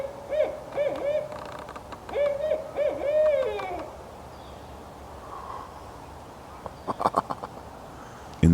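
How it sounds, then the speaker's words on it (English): A barred owl hoots from a forest at Wasaga Beach in a clear series of rhythmic hooting calls across the first four seconds, fairly near, followed by quieter forest ambience and a few brief sharp sounds near the end. "I just got video of a barred owl hooting"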